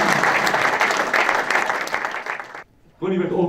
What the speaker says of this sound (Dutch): Applaus voor Ronnie Daniels.